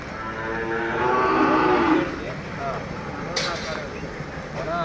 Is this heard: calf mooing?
yes